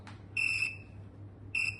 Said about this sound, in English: follow the whistle. One whistle, one action.